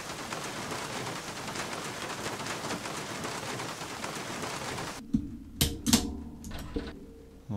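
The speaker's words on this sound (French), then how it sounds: "On entend bien le son de la pluie" Steady hiss of simulated rain in the iRacing racing game, a dense, even patter running for about five seconds before stopping abruptly, followed by a few isolated clicks and bumps.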